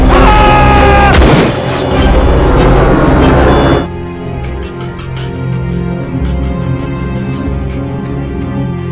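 Gunshots in a film scene where a passenger shoots the pilots aboard a small plane; a sharp blast rings out early over a loud droning background, followed by a quieter stretch with rapid, crackling impacts.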